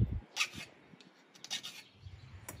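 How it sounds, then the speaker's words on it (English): A metal hand file rasps across the cut top of a pushrod in a few short, quiet strokes with brief pauses between them. "I'm just going to hit the top of this with a file"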